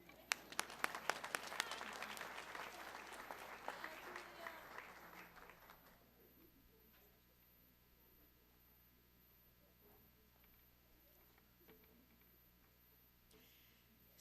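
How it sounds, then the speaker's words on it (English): Audience applause at a college honors convocation: dense, loud clapping for about six seconds, then it fades away into a quiet hall with faint ticking and scattered noises. "Round of applause."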